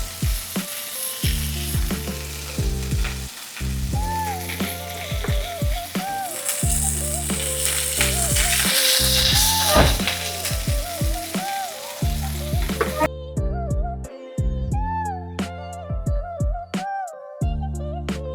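Fish frying in oil in a pot, with a steady close sizzle running throughout, an occasional stir, and music playing over it.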